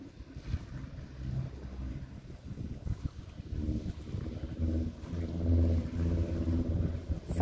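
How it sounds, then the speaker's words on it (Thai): A boat engine rumbles low and steady, mixed with wind buffeting the microphone, building louder toward the end. "ฟังเสียงเรือนะคะ"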